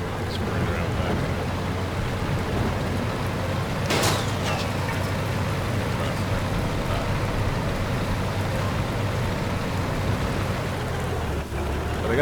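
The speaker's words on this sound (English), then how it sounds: "you have rain effects, weather effects" Rain weather effects in the tank game Armored Warfare sound as a steady hiss of rainfall with a low engine rumble beneath. A brief sharp crack stands out near the start, with a faint voice in the background.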